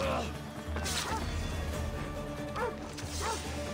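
Dog barking in the video game Assassin's Creed Odyssey: a few sharp barks near 1, 2.6 and 3 seconds over busy game combat noise with thuds and hits, close and fairly loud.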